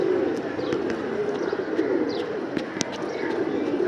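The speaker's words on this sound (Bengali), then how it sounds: "কয়টা কবুতর উঠতেছে," Pigeons outdoors coo in a steady low murmur while several brief sharp flutters and clicks of wings cut through as birds take off.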